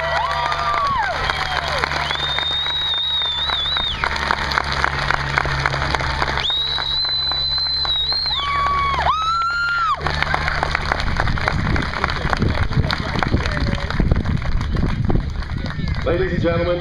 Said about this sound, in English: please give a round of applause to our nation's newest warriors